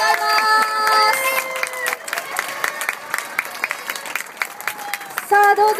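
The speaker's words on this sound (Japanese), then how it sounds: "どうぞ藤波選手にもう一度大きな拍手を送ってください。" Audience at a 2015 FIM Trial World Championship awards ceremony applauding rider Fujinami, with crowd noise and cheering under music tones from the stage PA, swelling loudly again at the end.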